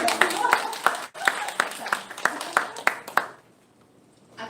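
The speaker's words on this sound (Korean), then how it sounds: "박수 주세요" A short burst of hand clapping from a small audience at an author's talk, quick and uneven, lasting about three seconds before fading into near silence.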